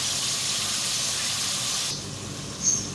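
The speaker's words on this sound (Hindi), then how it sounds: "चिकन को मैंने 3 से 4 मिनट ऑयल में फ्राई किया है" Chicken pieces frying in hot oil for a dhaba-style makhni karahi give a steady, close hiss that drops suddenly partway through, followed by a brief higher sizzle spike near the end.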